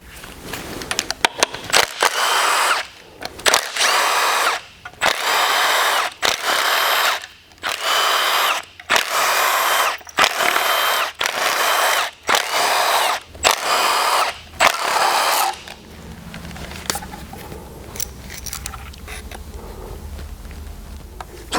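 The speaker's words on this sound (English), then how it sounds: "So with all those 10mm bolts removed" A power drill runs in repeated bursts of roughly a second each, loud and close, removing 10mm bolts from a coolant pipe on a Chrysler 3.2/3.6 engine, then stops, leaving quieter handling noise.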